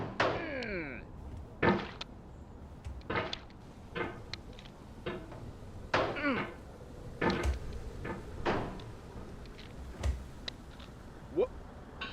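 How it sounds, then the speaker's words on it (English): In the video game Getting Over It, a hammer swings and strikes rock with a series of sharp knocks and thunks, spaced irregularly over about twelve seconds, with short vocal outbursts mixed in. "anger makes you swing the hammer harder"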